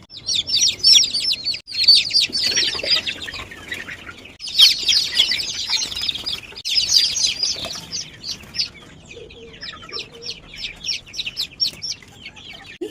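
Chicks chirping in a brooding cage on a poultry farm, a dense, continuous chorus of high peeping calls, loud and close, with bursts of overlapping cheeps and some fluttering.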